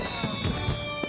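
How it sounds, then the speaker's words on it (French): Dense fireworks crackle and pop without a break, with several low booms rising out of a constant sizzling wash, in a cartoon. "le bruit des explosions peut les effrayer"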